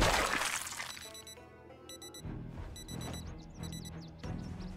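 An alarm goes off in a video game, sounding as a repeating pattern of bright, stacked electronic beeps in short bursts about once a second over a busy, noisy backdrop.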